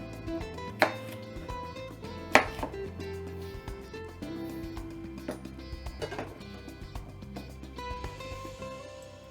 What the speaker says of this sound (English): slice that up, chop it up into little bite-sized pieces